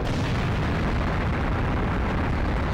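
Tank cannon shell exploding in the video game Global Defence Force, a dense, loud, sustained roar of blast noise filling the whole stretch with no speech over it.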